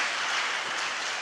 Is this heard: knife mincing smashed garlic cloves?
no